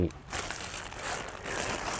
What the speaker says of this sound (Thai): ผมก็จะใช้ ถุงพลาสติกใสนะครับ ครอบจันเอาไว้นะครับในขณะผสมเกสรนะครับ